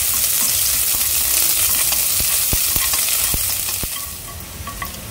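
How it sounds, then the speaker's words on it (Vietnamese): Shallots frying in cooking oil in a pan, a steady close sizzle with light stirring and scraping clicks throughout, no voices. "Mình cho một ít dầu ăn vô chảo nha. Mình sẽ cho hành tím vô, phi cho nó vàng thơm."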